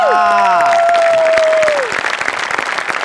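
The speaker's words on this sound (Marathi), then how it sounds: "तुझ्यासाठी उभं राहून टाळ्या वाजवल्या पाहिजे." A studio audience applauds on a Marathi comedy stage show, with loud, dense clapping and a few cheers. A bright musical sting rings out over the start and fades as the applause continues.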